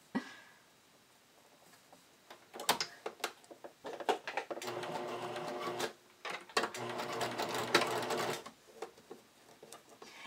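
A sewing machine runs a straight stitch on a bodysuit in quick bursts, its rapid mechanical whirring and needle clatter starting and stopping several times amid soft handling clicks.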